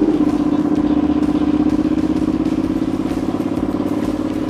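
Thornton Hundred wide-wheel bobber motorcycle rolling over a cattle grid at a deer park entrance, its engine a steady close drone with a fast rhythmic rattling clatter from the grid bars throughout.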